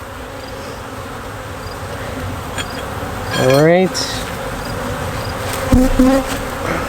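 Honeybees swarm an open hive as frames are worked, producing a dense, continuous buzz close by, with a few sharper passes of individual bees and a brief spoken word from a beekeeper.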